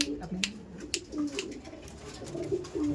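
Andhra pigeons coo softly nearby in repeated low warbling calls, with light clicks and rustles scattered among them.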